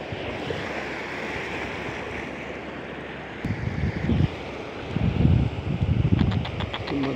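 Sea waves wash against the shore at a fishing spot, a soft steady hiss with low surges building and breaking louder toward the end, plus a few faint clicks, no voices.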